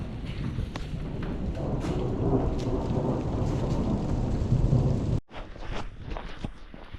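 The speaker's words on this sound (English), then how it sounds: "it's raining now" Rain with rolling thunder in Imlil, Morocco; steady patter of rain on surfaces under a long, deep, continuous rumble, close and fairly loud, then a brief cut before the rain continues.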